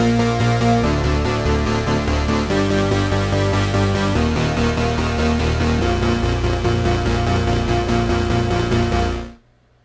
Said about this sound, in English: the first sound that we're using is called Barbaric Bass Arp